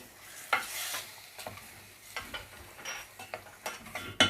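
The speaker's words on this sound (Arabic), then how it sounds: "هنتبل بمعلقه ملح ومعلقه فلفل، نديهم تقليبه" Meat seasoned with salt and pepper is stirred in a pan, giving a soft background sizzle. Sharp scrapes and clinks of the spoon against the pan come at irregular intervals.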